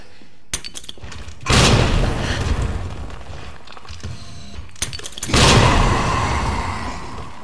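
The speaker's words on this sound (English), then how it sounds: "I'm gonna test the hand grenade on a liquor." Two hand grenades go off in Resident Evil 2 Remake, each a sudden loud blast with a lingering rumbling tail, a few seconds apart, with small clicks and thuds in between.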